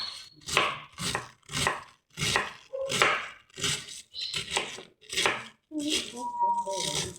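A knife chopping vegetables and tofu on a cutting board for noodles, about a dozen crisp, evenly paced thuds close up, with a faint clink of utensils near the end.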